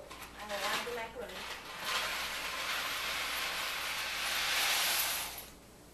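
Elbow macaroni poured into a pot of boiling water gives a sustained hissing, bubbling wash with a few faint metallic clinks of pot and utensils.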